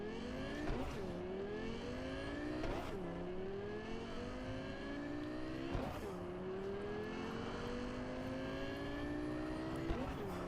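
An in-game car from Cyberpunk 2077 drives steadily, its engine note rising and dropping through repeated gear shifts over about ten seconds, loud and close, with faint background voices.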